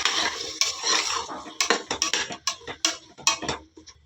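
Chopped vegetables stirred in a pot for vegetable kadhi, with close, brisk metal spoon scrapes and clinks in a quick uneven rhythm over a faint sizzle.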